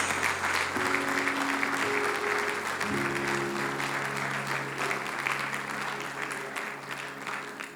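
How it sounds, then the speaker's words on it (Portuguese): Church congregation applauding during a worship service, steady broadband clapping filling the whole clip at moderate volume, with sustained organ or keyboard tones underneath and no speech. "Aplauda o Senhor."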